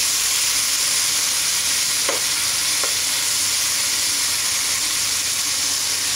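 Pork liver (igado) frying in a pan, a steady loud sizzle that hisses on throughout, with a couple of faint stirring scrapes midway and no talking.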